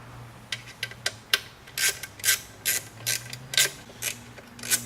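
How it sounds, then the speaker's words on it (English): Bolts being tightened on a 2006 Ford F150 cold air intake with a ratchet, an irregular series of short clicking and creaking bursts, close and fairly quiet over a low steady hum. "put your bolts back in. And we're going to tighten them back up"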